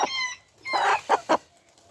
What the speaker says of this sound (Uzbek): Avgust chiqqan jo'ja mana